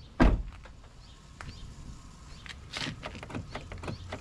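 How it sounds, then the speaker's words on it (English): Rear door on a 2005 Chevrolet Avalanche truck with new handles: a sharp thunk of the lock at the start, then several softer clicks and latch clunks as it unlocks, locks and the door swings shut, nearby and without talk. "Unlock, lock, unlock, lock. We'll close the door."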